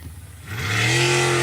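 Racing boat number 208 launches at the race start, its engine climbing from a low idle into a loud, rising roar that grows steadily over the final second.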